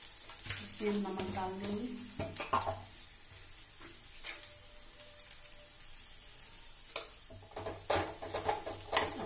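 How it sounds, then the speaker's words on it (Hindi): Potatoes frying over high heat in a pan while being stirred, a soft sizzle under scraping stir strokes and occasional clinks, quiet and close, with someone talking over it. "आलू को बहुत अच्छे से तेज आंच में ही कंटिन्यूअस चलाते रहना है, जिससे वो बहुत अच्छे से भुनेगा।"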